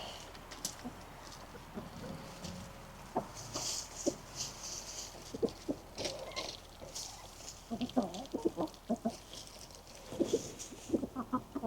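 Chickens cluck softly and intermittently in a quiet coop, with scattered short calls and faint rustling, fairly close.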